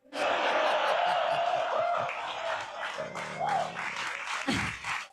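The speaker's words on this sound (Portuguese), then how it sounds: "Vejam quanto aplauso ela recebe." Sustained audience applause and cheering for a female comedian at a stand-up show, loud and dense at first, then thinning with scattered claps and crowd noise near the end.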